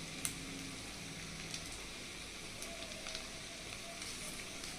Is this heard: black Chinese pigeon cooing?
no